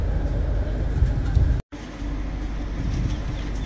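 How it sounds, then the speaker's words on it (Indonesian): An Argo Semeru passenger train arrives at Kutoarjo station, crossing another train, with a loud steady rumble of wheels and engine close by, broken by one short gap. "kereta api Argo Semeru tiba di stasiun Kutoarjo dan bersilang dengan kereta api Gaya Baru Malam Selatan"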